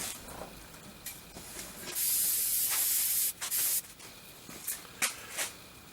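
Great Stuff expanding foam sprayed from its can in a steady hissing burst, loud and close, with shorter spurts and a few soft rubbing sounds around it.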